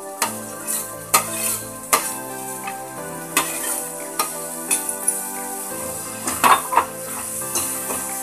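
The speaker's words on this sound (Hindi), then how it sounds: "इसमें ऐड कर देनी है हमारी जो भिंडी और प्याज हमने फ्राई करके रखी हुई थी वो, और इसे मसाले में अच्छी तरह से हमें मिक्स कर देना है" A spoon stirs fried okra and onion into masala in a pan, giving repeated close metallic scrapes and clinks against the cookware in an uneven rhythm, with no voices.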